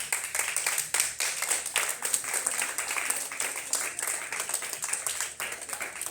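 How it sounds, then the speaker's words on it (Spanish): Church congregation applauding during a service, a moderate, steady patter of many hands clapping at close-to-mid distance, continuing evenly for several seconds. "Eso es un aplauso."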